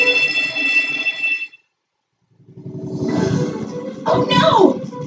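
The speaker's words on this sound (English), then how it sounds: "Is that the fire alarm?" A fire alarm rings in the video game Trauma Center New Blood, a steady buzzing tone that cuts off abruptly, followed after a pause by a rough roaring noise with sweeping tones.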